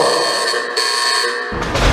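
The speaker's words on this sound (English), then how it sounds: "That's the buzzer" A buzzer sounds alone in a steady, continuous electronic drone, then shifts in tone near its end.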